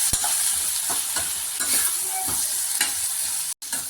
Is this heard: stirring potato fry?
yes